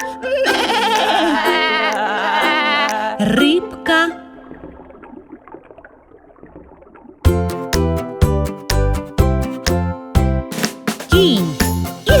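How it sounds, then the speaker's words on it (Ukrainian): A sheep bleats in a children's animal-voices song, a wavering bleat near the start blended with music, then quieter sounds before bright jingling, plucked music with a steady beat takes over. "Вівця."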